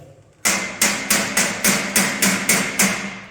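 Eight sharp, evenly spaced hammer blows ring out close and loud while the supplied hammer knocks together parts of a two-tier steel speed rack workbench, each strike trailing a short metallic ring.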